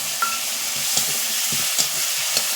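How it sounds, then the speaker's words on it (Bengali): Mustard paste and spices sizzle in a frying pan while being stirred, a steady hiss of frying broken by four soft, regular scrapes of the spoon, close and alone. "একটু নেড়ে নেবো"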